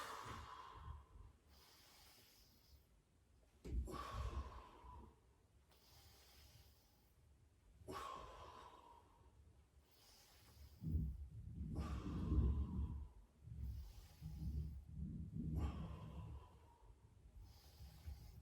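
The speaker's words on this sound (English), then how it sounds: "Keep that breathing." Deep rhythmic breaths during a floor exercise class, slow inhales and exhales repeating in steady cycles, close and airy, growing heavier toward the end.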